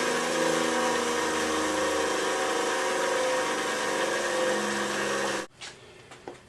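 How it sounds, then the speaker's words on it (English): Bench grinder grinding a secondary bevel on a blade, a sustained loud whirring grind that stops abruptly, followed by faint clicks and handling noises. "I simply move it forward in the notch and grind it away"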